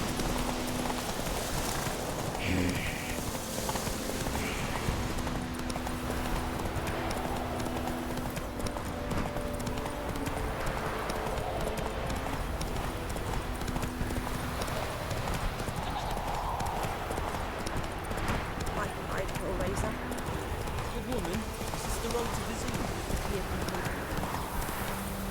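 In The Witcher, horse hooves clip-clop steadily at a walking pace on the ground, accompanied by an occasional whinny and a background score, with someone speaking over them at times.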